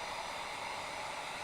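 A handheld heat tool blows steadily over a crafting project dusted with very fine shimmer, giving a continuous close, even hiss of moving hot air with no pauses or voices.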